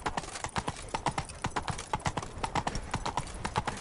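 Roach, a horse in The Witcher 3, gallops with a brisk, steady clip-clop of hooves on a hard road, close and continuous, with faint game sounds behind.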